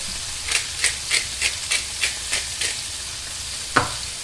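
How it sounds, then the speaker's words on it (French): Cherry tomatoes sizzling in a frying pan over low heat, a steady hiss broken by a rhythmic run of sharp spatters or stirring taps, then one louder pop near the end. "J'ajoute maintenant les tomates cerises. Il faut faire attention aux projections."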